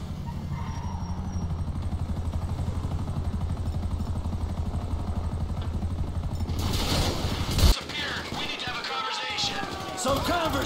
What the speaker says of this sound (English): Shit. Chopper.